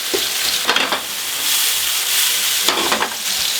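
Meat and mushrooms sizzling in a pan in olive oil, a loud steady crackling fry with brief bursts of louder spitting, no talking.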